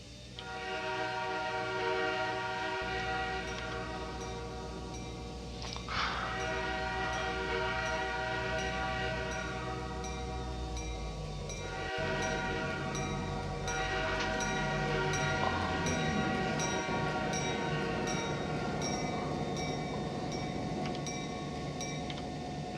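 Canadian Pacific H1a steam locomotive simulated in the Trainz game, starting into motion with a loud, steady chuff and mechanical rumble, a whistle blast near the start, and continuous running sounds throughout with no talking.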